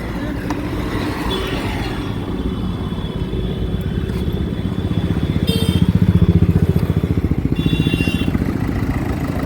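A 2015 Renault Duster RXL diesel engine running at idle with a steady rhythmic clatter that swells slightly midway, under someone talking nearby, with a few faint high beeps.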